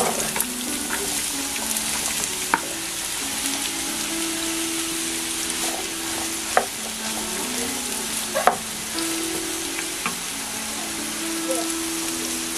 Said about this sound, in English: I'll add vegetable oil, just a little oil to stir fry it